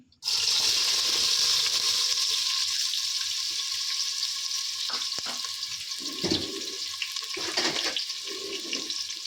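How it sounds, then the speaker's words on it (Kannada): Onions frying in hot oil with mustard seeds for a bamboo shoot sambar, a loud, steady hiss and sizzle that starts abruptly and runs throughout, with a few brief stirring clatters partway. "ಆಲ್ರೆಡಿ ನಾನು ಆಯಿಲ್ ಮತ್ತು ಸಾಸಿವೆ ಹಾಕಿದ್ದೀನಿ ಇವಾಗ ಆನಿಯನ್ ಹಾಕೋತಾ ಇದ್ದೀನಿ"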